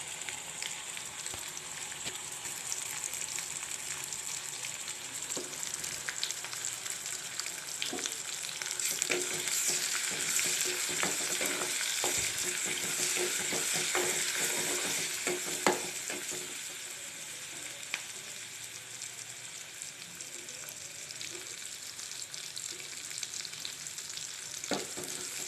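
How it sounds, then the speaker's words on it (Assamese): Onions frying in a pan until golden and starting to catch on the bottom: a soft, continuous sizzle with frequent scraping stirs that swell midway and then ease, no voices. "পিঁয়াজখিনি গল্ডেন কালাৰ হৈছে, তলত লাগি ধৰিছে"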